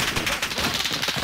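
Rapid gunfire in Call of Duty: Modern Warfare, a short, loud, steady stream of shots.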